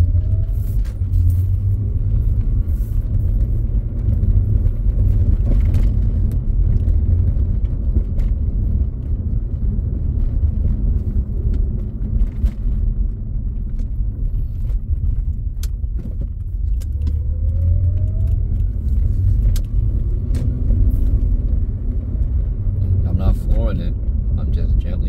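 A 2004 Acura TL rolls along in automatic drive, its low road and engine rumble filling the cabin continuously, with faint rising tones and small rattles as the transmission shifts on its own.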